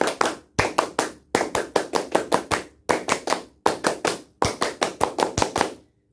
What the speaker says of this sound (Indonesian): Kita tutup dengan tepuk pramuka bersama-sama.